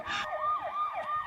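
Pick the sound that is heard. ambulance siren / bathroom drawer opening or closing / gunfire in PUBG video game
ambulance siren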